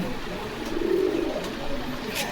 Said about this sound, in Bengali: দেশি গোল্লা কবুতর।